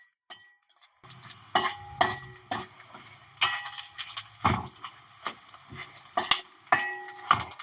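Drumstick leaves being stirred as they dry-roast in a pan for spice powder: a spoon scrapes and clinks against the metal in irregular bursts, close and moderately loud, with short gaps between strokes.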